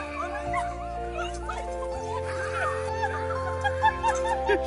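A schnauzer whimpers and yips in short excited bursts, close and fairly loud over a steady background hum, with a few high squeals near the end.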